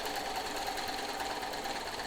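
A Janome 642 free arm sewing machine stitches fabric at slowed speed, giving a steady, close, continuous mechanical whir with an even, fine-grained rhythm and no voices.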